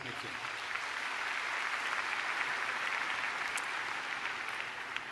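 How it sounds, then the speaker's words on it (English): A conference audience applauds, a steady sustained burst of clapping from a large hall that holds evenly for several seconds. "A round of applause, please, for Dr. James Poisant."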